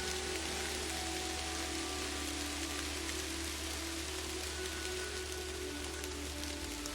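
Steady rain falls in the Kathy Rain point-and-click game, a continuous hiss of drops on surfaces with a low droning ambience underneath and no talk.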